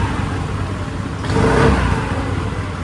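Rebuilt Honda Activa scooter engine with a stage 1 tune running steadily, then swelling into a brief rev around the middle before settling back to an even, close idle hum.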